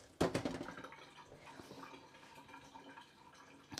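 Faint running water and drips as hands are washed in a kitchen, a soft splash near the start, then quiet trickling and dripping with no talk.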